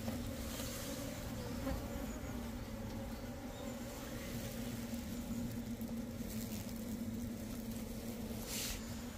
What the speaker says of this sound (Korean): 토종벌이 지금 설탕물을 가지고 가려고 지금 덤벼드는 거죠